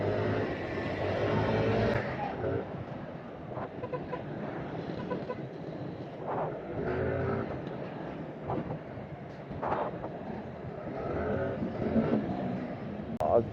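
Busy Jakarta street traffic near Kota Tua, with cars and many large vehicles jammed together. Engine rumble and the low drone of heavy vehicles run continuously, and sharper passing noises and clanks surface now and then.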